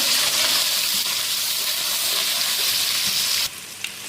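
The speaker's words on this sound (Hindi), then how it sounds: "इसको थोड़ा सा भूनते हैं।" Chopped ginger fries in hot oil in a pan for degi chana pulao, giving a close, steady sizzle with a light stirring scrape that drops sharply quieter near the end.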